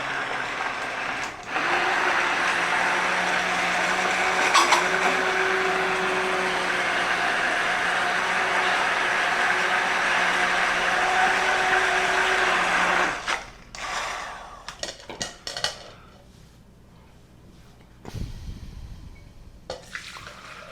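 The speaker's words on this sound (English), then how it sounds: "We're just going to pulse it a little bit, and then we'll run it through the sieve." A kitchen blender chops rice and pimento for a 1916-style bisque, whirring steadily for about twelve seconds before stopping, followed by a few short pulses and clatters. No one speaks.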